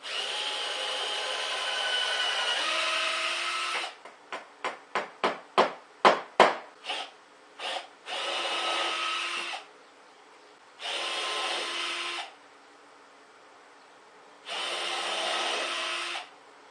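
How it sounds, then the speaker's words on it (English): A small drill with a 1/16 inch bit whines in several steady bursts separated by pauses, with a run of sharp tapping knocks in between, close up and fairly quiet. "Use a 1/16 inch drill bit."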